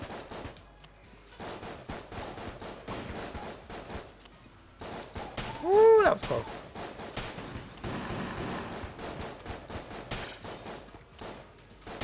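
Rapid gunfire from the Enter the Gungeon video game rattles almost constantly as dense bursts of shots, with a brief rising musical chime midway and a player speaking briefly.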